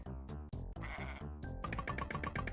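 Goats bleat in a Super Nintendo first-person shooter, a rapid overlapping run of loud, buzzy synthesized bleats tumbling one after another with no talk over them.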